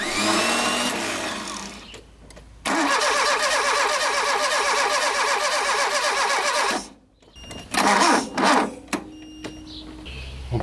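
An Alfa Romeo 33 under restoration, with no ignition spark, has its starter cranking the engine in long rhythmic whirring bursts. Each attempt fails to catch, and the loud cranking stops and starts again in shorter bursts near the end.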